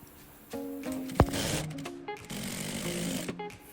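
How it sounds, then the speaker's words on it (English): A sewing machine runs a straight line of stitching down a slashed edge of fabric for a trouser fly zip, short bursts of whirring motor with a sharp click partway, close and with no talk. "I'm going to sew it straight down"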